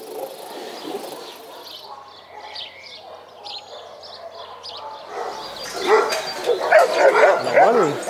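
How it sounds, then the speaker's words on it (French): Shelter dogs barking in a kennel, first scattered yips and whimpers at a distance, then a louder close chorus of overlapping barks building toward the end. "ils aboient tous comme ça"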